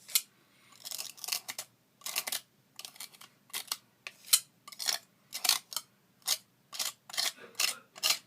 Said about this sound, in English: I'll scrape the excess off the stencil back into my pot